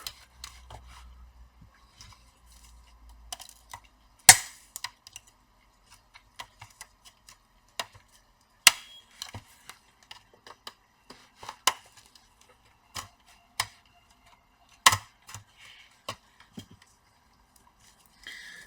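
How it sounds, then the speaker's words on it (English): Sparse small plastic clicks and rattles, irregular and close, as broken plastic fragments tumble and tap inside an HP 15-BS laptop, with silence in between. "A lot of plastics are broken inside, that's why we can hear something"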